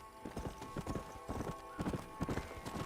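Horse hooves clip-clop in a quick, regular trotting rhythm in the western game Red Dead Redemption, close and clear with no talking over them.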